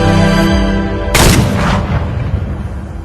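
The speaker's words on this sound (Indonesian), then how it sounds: "tiba-tiba suara tembakan mengejutkan Hejo" A gunshot in a Korean drama: a single loud, sharp blast with a ringing tail that cuts through a sustained musical tone and then fades.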